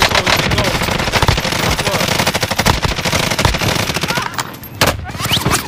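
Dense automatic gunfire from Call of Duty Warzone, loud and near, rattling bursts nearly continuous with brief gaps, overlapping player voices in a battle royale match.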